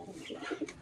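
A short, soft pigeon coo, a low throaty warble lasting under a second, heard close by from a pigeon perched on a person's head at a mini zoo.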